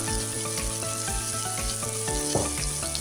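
Sliced potatoes and flat beans fry in hot oil in a pan, giving a steady, close sizzle that runs unbroken, with a few soft clatters as the vegetables are stirred.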